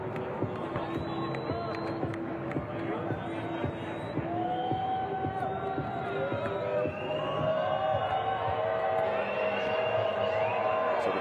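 A basketball crowd at a FIBA 3x3 World Tour Masters game in Mexico City makes noise during free throws, a sustained roar with whistles and calls. It builds toward the end, with commentary talk over it.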